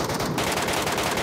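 Rapid automatic gunfire in PUBG Metro Royale, a continuous close burst of shots lasting about a second.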